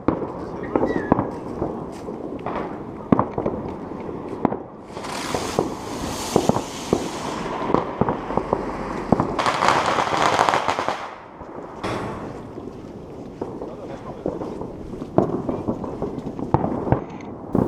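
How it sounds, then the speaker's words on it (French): Firecrackers set off during Chinese New Year in Beijing, sharp cracks and bursts in irregular clusters with dense crackling volleys, moderately near, while people talk in the background. "le gamin ils allumaient le pétard avec la clope"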